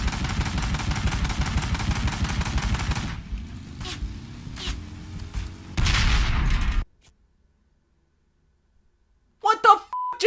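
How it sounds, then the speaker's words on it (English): Gunshots from a Sega Genesis video game fired at an on-screen enemy with a cursor, a rapid, loud rattling burst followed by scattered shots and another short volley, then silence and a brief voice. "I tried shooting at this guy, but I can't get the cursor on him properly!"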